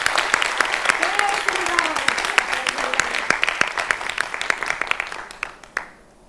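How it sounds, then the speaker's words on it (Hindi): Studio audience applause at a televised Hindi interview rises into dense, sustained clapping, then thins to scattered claps and stops near the end. "एक बार तालियों के साथ मेरे इस प्रयास का स्वागत करें"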